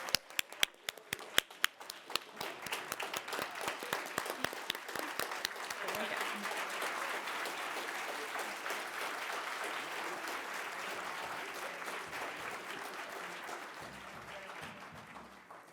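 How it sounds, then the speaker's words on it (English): Applause and a standing ovation from an awards ceremony crowd for departing EBAN presidents, starting with a few scattered claps, then building into dense, sustained clapping that holds steady and loud throughout. "give all of our EBAN presidents one last round of applause and a standing ovation"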